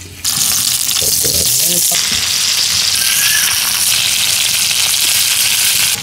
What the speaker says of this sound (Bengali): এবার মাছটা ভাজি নেন